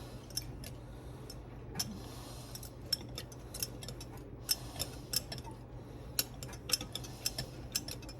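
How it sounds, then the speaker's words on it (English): Pudding stirred in a bowl for a shamrock pie, a run of soft, scattered clicks and scrapes of a utensil against the dish at close range, with a low steady hum underneath and no talking. "We're gonna stir it real quick."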